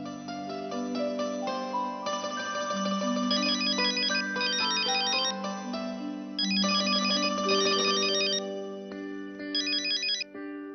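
A ringtone repeats for about eleven seconds at a steady volume, with layered melodic phrases and bright chiming bursts returning at regular intervals. It plays alone with no one speaking.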